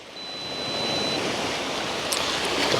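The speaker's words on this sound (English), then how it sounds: "oh, these waves are coming in" Ocean surf washes continuously onto the shore as a loud, steady roar that builds slightly, with a brief high whistle early on and no voices.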